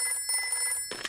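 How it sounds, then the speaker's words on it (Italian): A telephone rings in a Peppa Pig cartoon, a steady electronic trill in two bursts separated by a short gap, fairly faint, followed by a brief sound at the end. "È meglio fare un colpo di telefono a Nonna Pig."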